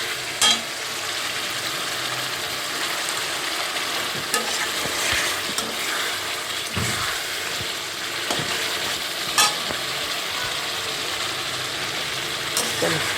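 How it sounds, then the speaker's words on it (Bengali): Meat being sautéed and stirred in a pan for a home curry gives a steady, close sizzle throughout. Occasional scrapes and clinks of the spoon against the pan sound over it, and a faint voice is heard now and then. "মাংসটা কষানো হয়ে যাচ্ছে।"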